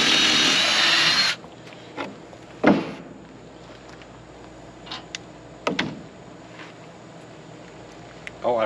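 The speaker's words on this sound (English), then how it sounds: "So I'm going to just drill a couple holes here." A power drill boring a couple of pilot holes into wooden deck boards for an RV park mailbox, heard as a loud, dense whir in the opening second or so, then silence broken by a few short knocks and clunks.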